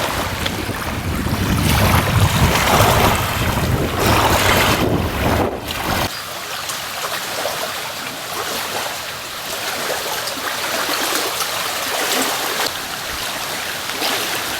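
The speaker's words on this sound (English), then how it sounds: "If we can ignore the wind sound, the waves lapping on the shore sound beautiful." Small waves lap against a Scottish loch shore while strong gusty wind rumbles across the microphone, louder in the first few seconds, then easing to a steady blustery wash with no voices.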